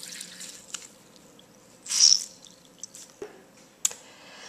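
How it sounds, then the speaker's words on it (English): Water being squeezed out of a wet beauty blender makeup sponge, quiet soft squishes and a brief splashing trickle, with small drips and clicks nearby and no talking. "once it's done, we're going to start squeezing the water out."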